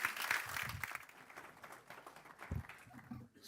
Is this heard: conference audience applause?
yes